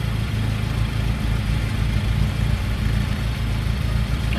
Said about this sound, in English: It does idle slightly roughly.